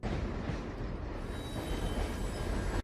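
A moving train rumbles steadily with a dense, continuous clatter of wheels and carriage noise, close and sustained throughout.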